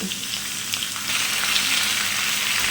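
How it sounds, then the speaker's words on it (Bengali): Raw mango pieces fry with a spice tempering in hot oil for a pickle, a steady close sizzle and crackle that grows a little louder halfway through, with no voices. "এই ফোড়নের সঙ্গে ভেজে নিতে হবে দেখুন এক মিনিট সময় ধরে"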